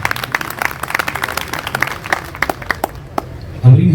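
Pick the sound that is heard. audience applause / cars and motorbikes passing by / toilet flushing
audience applause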